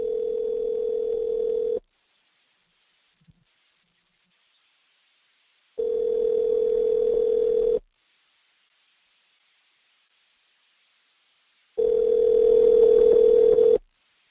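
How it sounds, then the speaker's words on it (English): A telephone rings during a call: three steady tone bursts of about two seconds each, separated by roughly four seconds of near silence, clear and even in level. "Let me know if you can hear the ringtone."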